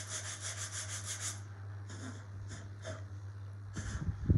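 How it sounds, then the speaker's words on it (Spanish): Sandpaper rubbed against wood in quick back-and-forth strokes, a rhythmic burst at first, then slower scattered scrapes. "Hay que lijar esto, preferentemente con una lija de estas."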